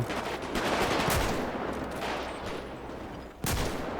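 Rapid gunfire in GTA V with a zombie mod, dense bursts of shots running nearly continuously at close range, with a sharp louder shot near the end.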